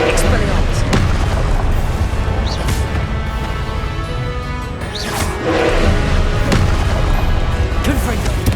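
Confringo blasting spells in Hogwarts Legacy on PS5 set off repeated loud smashing booms and crashes with crackling debris, several impacts spread across the stretch amid dense battle noise and voices.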